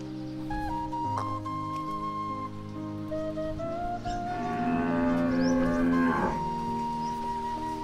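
A Gir cow on a dairy farm moos in long, drawn-out low calls, close by, with a steady patter like light rain in the background.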